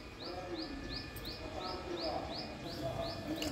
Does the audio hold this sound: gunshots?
no